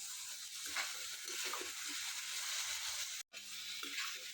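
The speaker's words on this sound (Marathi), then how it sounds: "आता तूप घालायचं आहे एक दोन चमचे घालायचे तूप" Ghee being stirred into sweet modak filling in a pan, a soft steady sizzle with scraping spoon strokes throughout, broken by one brief silent gap near the end.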